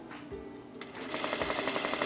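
A sewing machine stitches down an invisible zipper seam on a partially lined garment, starting after a brief pause and settling into a steady, rapid run of needle strokes, close and fairly loud.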